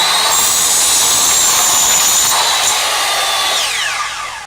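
A power saw cuts wooden mirror frame side pieces to matching lengths, a loud steady whine holding for several seconds before winding down at the end.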